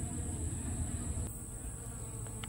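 Honey bees swarm over a beehive frame in a colony with a laying worker. They make a steady, close, even buzz with no pauses.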